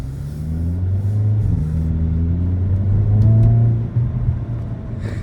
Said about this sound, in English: Throttle response is good in the sport mode.